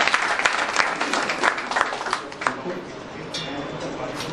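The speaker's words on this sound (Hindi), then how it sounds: "रॉबिन मलिक, तालियां बजाइए इसके लिए" Audience clapping for a singer named Robin Malik at a singing talent show, brisk scattered applause that tapers off toward the end with voices faintly underneath.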